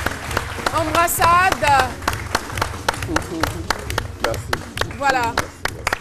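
An audience claps loudly on a French midday TV show as a guest is called up, with uneven bursts of clapping mixed with close talking, laughter-like vocal sounds and a few sharp taps.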